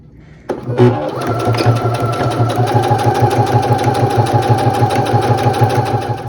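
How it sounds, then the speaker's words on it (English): A sewing machine stitches Velcro onto fabric: a click at the start, then the motor runs up into a loud, close, steady rapid needle rhythm that continues unbroken to the end. "I am going to backstitch at the beginning and end just to secure that Velcro in place"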